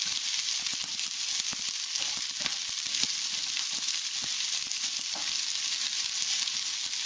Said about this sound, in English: you want to pre-stir fry the onions until they are fragrant